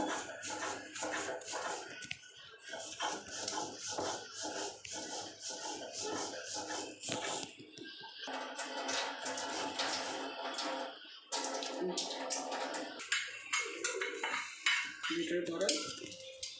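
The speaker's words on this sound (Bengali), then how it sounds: "এই মশলাটাকে একটু বেটে নিচ্ছি আমি" Spices are ground into a paste in a kitchen, a repeated rhythmic scraping and knocking of utensils that runs steadily, then turns irregular with clattering, with some faint talk in the background.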